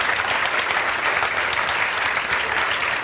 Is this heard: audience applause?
yes